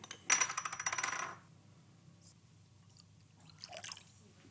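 Three eggs crack into a bowl, then cream is poured in for a spinach tart filling. A quick cluster of wet clicks and splashes is followed by a short quiet pause and a softer liquid pour.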